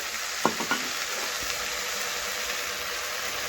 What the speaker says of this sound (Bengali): আমি একটু দিয়ে দেব জল